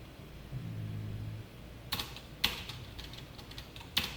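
Keys on a computer keyboard are struck in a few sparse, crisp taps and short bursts over a faint hum, with no voices.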